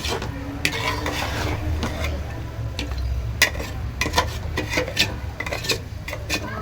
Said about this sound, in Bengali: এখন ভালোভাবে কষিয়ে নিব, 5-6 মিনিটের মতো ভালো করে একটু কষিয়ে নিব